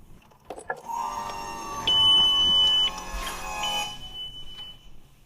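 A fire-damaged Lamborghini Gallardo LP520 has its ignition switched on, and a steady electronic warning tone sounds for about a second amid hum and faint clatter, then fades under a softer chime.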